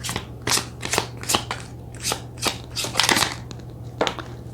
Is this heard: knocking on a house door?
no